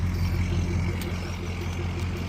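A truck rumbles past on a street during a walk with a dog, its low engine drone steady and moderately loud with a faint brief click partway through, no voices.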